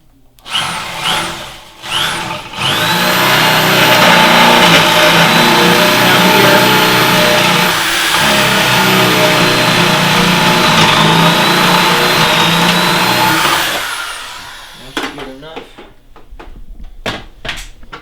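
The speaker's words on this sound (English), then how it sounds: "I take our drill. This is a 1/2 inch stock, so I'm going to use a 9/16 drill" A power drill with a 9/16 inch bit whines loudly and steadily for about ten seconds as it bores into wood, with shorter tool noises and clatter before and after.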